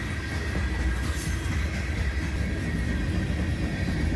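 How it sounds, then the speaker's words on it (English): Manifest freight train with many covered hoppers rolling past nearby, a steady continuous rumble of wheels on rails without voices. "Lots of covered hoppers on this manifest train."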